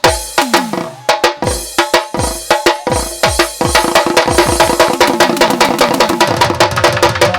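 A group claps loudly in steady rhythm along to a Bhandari devotional song, the crisp hand claps quickening into a dense even beat over the singing and music.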